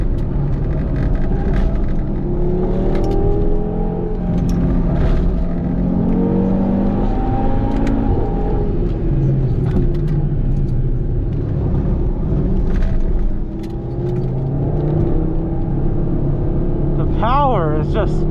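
A track-driven Audi TT RS rumbles and pulls hard out of corners, its engine note rising and falling in long revving sweeps from inside the cabin, with someone talking over it throughout.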